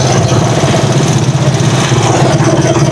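A motorized tricycle engine idles loud and close in San Gabriel, Tuguegarao, with a continuous rough throbbing rumble that holds steady throughout.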